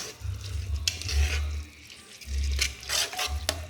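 Soaked rice and tomato pieces are stirred in a cooking pot, making wet scraping and squelching strokes in a repeating rhythm, close and moderately loud with brief pauses between passes.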